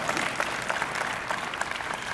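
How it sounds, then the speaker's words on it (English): Audience applause for Matt Geiger at a Census Bureau executive event, a steady wash of clapping from a crowd that fills the whole moment, dense and even with no voices over it. "Round of applause for Matt Geiger."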